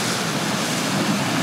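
Ocean waves at a beach give a continuous, full roar of surf with a slight windy edge, steady and fairly loud from start to finish, and nobody speaks.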